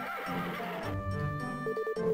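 A horse whinnies in the farming game Harvest Moon DS Cute, a bright, wavering neigh that rises and falls over about two seconds, close and clear with no talk.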